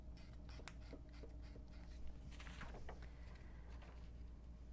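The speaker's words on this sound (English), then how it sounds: "I'm going to mark the center edge." A pen marking the center edge of fabric beside an aligned paper pattern piece while sewing strap adjusters onto a backpack: short scratchy strokes in a quick series, close and fairly quiet, with no talking.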